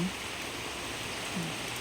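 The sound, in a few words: rain falling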